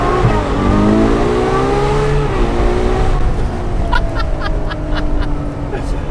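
Naturally aspirated V12 of a Ferrari 812 Superfast revving loudly up through the range with rising harmonic tones, then easing off, with sharp popping crackles near the end, close and dominant.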